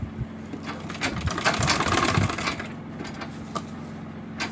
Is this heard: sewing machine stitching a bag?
yes